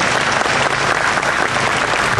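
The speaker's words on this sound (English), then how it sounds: "You can applaud" Loud, dense applause from a pageant audience on stage, a continuous close wash of clapping hands with no talking.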